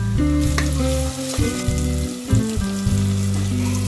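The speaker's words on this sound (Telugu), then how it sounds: "ఉల్లిగడ్డ ముక్కలు అయితే గోలుతున్నాయండి" Onion and tomato pieces frying in a pan with rock salt, a loud continuous sizzle with bubbling and occasional stirring scrapes, close up and without talk.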